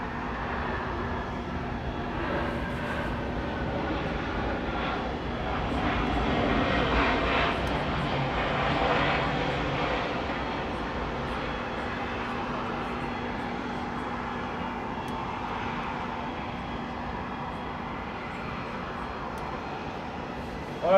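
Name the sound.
American Airlines jet airliner passing at Atlanta airport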